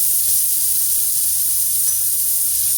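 Tomato puree sizzling in a pan over roasted ground spices and salt for an aloo gobi masala, a steady bright hiss held loud and close throughout with no talk.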